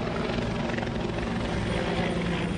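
A police helicopter flying on an air search over a wildlife reserve in Quebec, a steady, loud rotor and engine roar that fills the whole stretch with no pauses.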